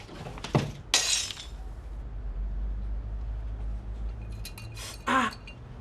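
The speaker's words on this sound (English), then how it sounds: "Smashed the glass." A drinking glass smashes indoors, a sharp bright burst of breaking glass near the start, followed by a short scatter of tinkling fragments, with another crash-like burst near the end over a low room hum.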